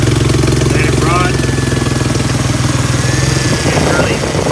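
A 1999–2004 Ford Mustang engine idles steadily and close by throughout, a low even drone with a faint whine above it, while the cooling system is being flushed with a garden hose.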